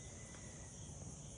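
A dense, steady wall of night insects, cicadas among them, buzzes and shrills without pause, close and fairly loud, with no talk over it.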